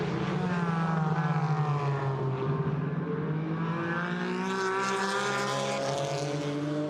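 GT4 race cars roar past at the Nürburgring, a loud sustained engine drone with pitch climbing and sweeping as they pass, several cars overlapping close by.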